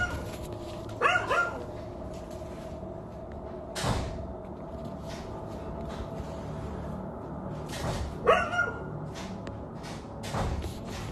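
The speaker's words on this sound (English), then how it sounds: "his dog started going nuts, barking at something." A dog barks in short bursts at night, a couple of sharp double barks separated by pauses, with knocks and thumps in between, no talking.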